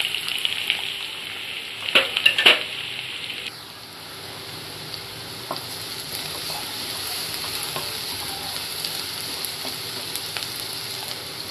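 Onion frying in hot oil in a kadai after mustard seeds have spluttered, for a raw banana vegetable dish: a steady close sizzle runs throughout, with a few sharp clinks and spatters early on, and no talking.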